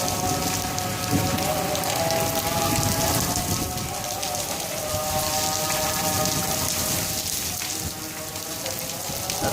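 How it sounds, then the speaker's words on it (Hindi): Steady rain with hail falling outdoors in Rawalpindi, a dense, continuous hiss of drops and pellets striking surfaces, even in loudness throughout with no voices. "आज रावलपिंडी में बारिश लगी हुई है और ये देखें ओले भी पड़ रहे हैं।"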